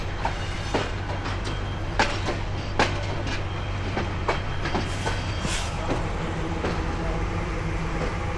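The Rangpur Express runs through the night, heard from inside as a steady rumble with rhythmic clickety-clack of wheels on rail joints, while voices murmur in the background.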